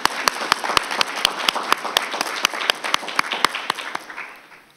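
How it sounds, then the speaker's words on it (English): Applause from an audience at a school district board of trustees meeting: a crisp run of sharp individual claps that builds into a steady round, then tapers and fades toward the end, with no talking over it. "Round of applause."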